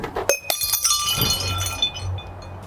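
A drinking glass dropped and shattering, a sharp crash followed by bright clinks and tinkling shards settling close by, with no voices.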